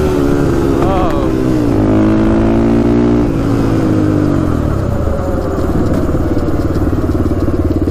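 Engine of a quad ATV running loud and close with deflated tires during a wheel death wobble, a steady droning rumble whose pitch dips and rises with throttle, plus a rapid rhythmic thrumming.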